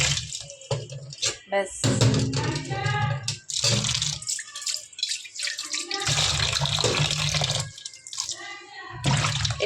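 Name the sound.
washing chopped vegetables under running tap water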